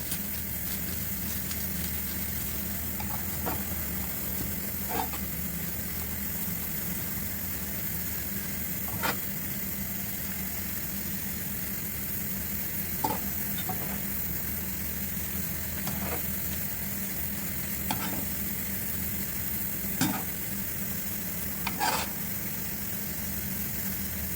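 Pancit canton noodles with meatballs stir-fried in a pan: a steady close hiss of frying, broken by occasional light clinks of a utensil stirring against the pan.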